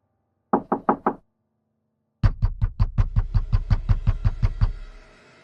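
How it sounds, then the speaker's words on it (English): Slow, deliberate knocks on a closet door, first a quick set of four, then after a pause a longer series of about fifteen even raps, close and clear with no voices. "The knocking came again,"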